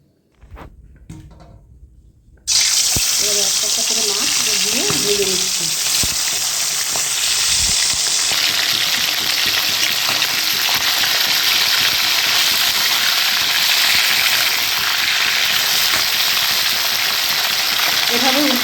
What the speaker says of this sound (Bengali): এবারে কড়াইতে সর্ষের তেল দিয়েছি একটা একটা করে মাছ আমি ভেজে নেব